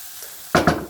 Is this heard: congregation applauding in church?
no